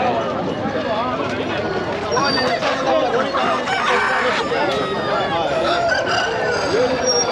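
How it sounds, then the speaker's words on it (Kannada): Roosters crow repeatedly and chickens cluck amid a busy crowd at a rural poultry market in Hoskote, Bangalore, with steady chatter and bargaining voices throughout. "ಕೋಳಿ ಸಂತೆ ಬಂದಿದೆ"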